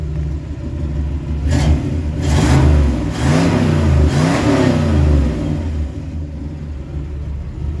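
The original 283 V8 of a 1965 Chevrolet Impala revs up several times in rising and falling swells over a low idle rumble, loud and close with no talking.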